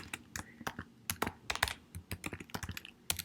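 Close, quiet typing on a computer keyboard: quick, irregular runs of crisp key clicks with short pauses, and no voices.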